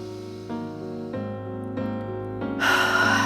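A deep breath in during a ballet-style stretching routine swells as an airy, sustained inhale in the final second, layered over gentle held piano chords.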